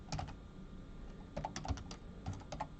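Rapid typing on a computer keyboard comes in quick clusters of close, crisp key clicks, with a pause between bursts.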